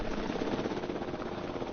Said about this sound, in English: As he gets a personal large helicopter flown to him.